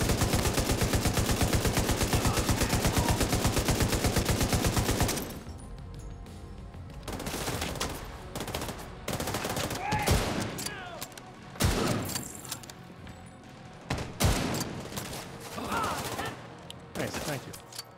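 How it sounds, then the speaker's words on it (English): Rapid automatic gunfire from The Division 2 hammers nonstop, then gives way to scattered single shots and short bursts, some near and sharp, others more distant, with combat noise between them. "I'm under fire. We're being flanked."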